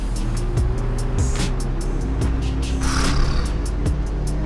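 A car engine holds a steady drone while cruising in Gran Turismo 7, played in PSVR2, with repeated short whooshes and clicks over it and a brief rise in pitch partway through, loud and continuous.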